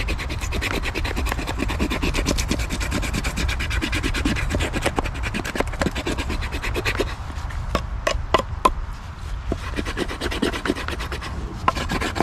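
A knife scrapes steadily along wood outdoors to shave fine curls for a tinder bundle, a continuous close rasping. A few sharper scratches come near the end.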